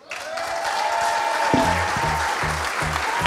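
Audience applause at a jubilee celebration for the Bourseau flour mill, greeting Jean-Yves Durand as he comes on stage: dense, steady clapping from a room full of people, with music-like tones sounding underneath partway through.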